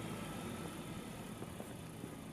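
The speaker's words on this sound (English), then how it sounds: "releasing the clutch pedal slowly and adding power as the clutch slips its way to linking with the engine" Honda car with a manual transmission, its engine held around 1500 to 2000 RPM as the clutch slowly engages, giving a steady close rumble with faint surges of power and no talking.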